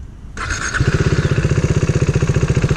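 Motorcycle engine starting with a sudden burst, then settling into a close, rhythmic low thumping as the bike pulls away slowly in first gear, the pulses steady and even.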